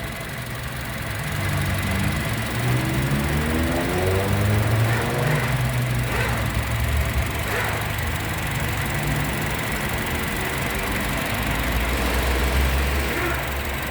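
A Honda City 1.5 S CNG sedan idles steadily nearby, a smooth low engine hum with a slight rhythmic pulse that holds even for the whole stretch, with no voices.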